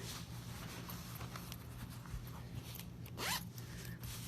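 A zipper on a small pouch is pulled closed up close, a quick rasping zip over faint background hum.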